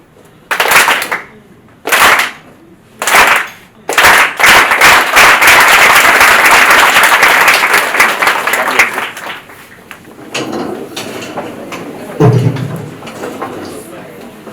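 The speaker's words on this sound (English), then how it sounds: "Now, once I do this, you give me a clap" Audience at a maritime arts gathering claps three times in unison, in loud separate bursts, then breaks into sustained applause that thins out, with a voice and scattered claps near the end.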